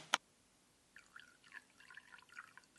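Tung oil and citrus solvent are poured into a jar: a sharp clink at the start, then a soft, intermittent trickle of liquid running into the glass.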